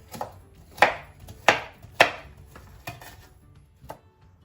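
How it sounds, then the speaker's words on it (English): A knife chops sharply through half an onion on a cutting board, a handful of crisp strikes at a steady, unhurried pace, close up with no talking. "Just chopping up half an onion."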